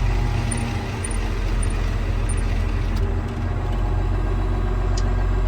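A heavy tractor engine idles steadily close by during Ag Leader SteadySteer steering calibration, a constant low rumble with faint high chirps and occasional clicks, no talking.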